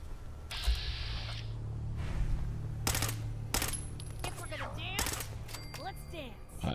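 Pipe gun from Fallout 4 fires in separate sharp cracks, several spaced shots close by, over a low steady hum, with someone talking between and after the shots.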